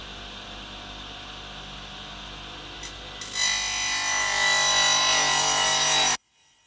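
Ends of wood boards are trimmed with a saw: after a quiet hum and a couple of small knocks, a loud, steady rasping cut runs for about three seconds and stops abruptly.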